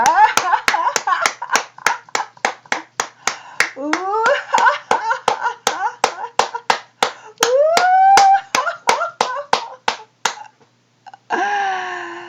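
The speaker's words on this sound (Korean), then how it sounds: "박수를 치면서 발을 구르면서 자, 웃음 시작." Hands clapping in a quick steady rhythm while feet stamp during a laughter exercise, sharp close claps beneath bursts of voiced, rising laughter, then a brief pause and a final laugh at the end.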